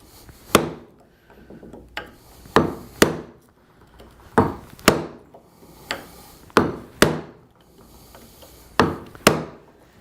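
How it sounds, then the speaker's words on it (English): A mallet strikes a chisel being driven into wood to cut a dovetail, producing a series of sharp, close knocks, often in quick pairs, with short pauses between them. "So I'm driving this chisel in to almost the full depth of the bevel."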